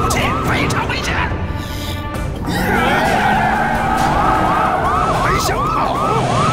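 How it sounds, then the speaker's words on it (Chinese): Several police car sirens wail in an animated film, rising and falling in overlapping loops that grow louder and more layered, with vehicle noise beneath and voices talking over them. "糟了，咋来了这么多警车？"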